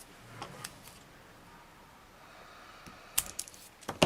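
Scissors snip through a long strip of material while assembling a face mask card, a few sharp, close clicks and cuts clustered near the end after quiet handling.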